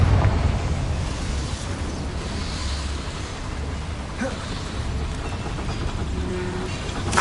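Confringo fire spell blasts in Hogwarts Legacy, a continuous roaring, rumbling burst of fiery explosion noise that stays loud and dense for several seconds, with a few crackling pops on top and no talking.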